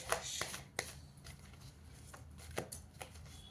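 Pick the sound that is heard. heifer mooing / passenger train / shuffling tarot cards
shuffling tarot cards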